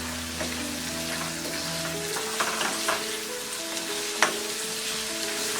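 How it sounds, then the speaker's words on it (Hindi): Chana dal and spring onions sizzling steadily in hot oil in a pan, a continuous broad frying hiss with occasional stirring scrapes and small pops, close and fairly loud, no voices. "चना दाल फ्राई होने के बाद हम डालेंगे ये स्प्रिंग अनियंस, ये अनियन मिक्स कर देना।"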